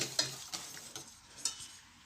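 A spoon stirs a turrón mixture seasoned with a pinch of salt, giving a few soft scraping strokes against the bowl, close and quiet, with a faint sizzle-like hiss underneath.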